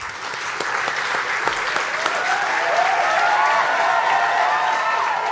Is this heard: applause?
yes